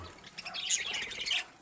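Budgerigar chicks in a nestbox give a brief cluster of thin, high chirps and tweets, close and faint.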